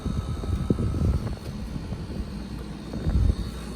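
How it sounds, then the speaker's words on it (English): A portable heat pump's compressor runs loudly with a continuous low mechanical rumble and droning hum that stays fairly steady, with no talking. "Compressor is being quite loud."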